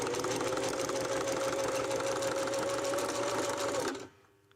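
A sewing machine stitching rope coasters hums in one continuous, loud, even run before stopping abruptly near the end.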